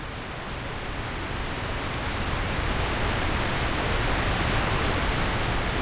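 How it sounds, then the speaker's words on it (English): A waterfall in the In Verbis Virtus temple roars as a steady, dense hiss of falling water, even and unbroken, filling the space without any other sound. "And waterfall noises."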